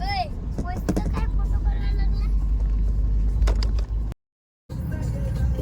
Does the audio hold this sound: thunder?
no